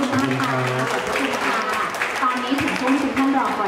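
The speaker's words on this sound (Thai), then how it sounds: "ขอเสียงปรบมือดังๆให้กับทั้ง4ท่านค่ะ" Applause from a crowd at an exhibition launch, honoring four guests; steady dense clapping runs throughout, with voices talking over it.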